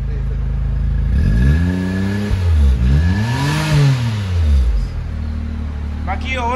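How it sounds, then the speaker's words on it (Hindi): A 2015-18 Daihatsu Copen Robe convertible's exhaust revs up and down several times, swooping in pitch with a smooth deep burble, loud and close. "इसका ज़रा जो एग्जॉस्ट साउंड है ना वो काफ़ी अच्छा और स्मूथ है"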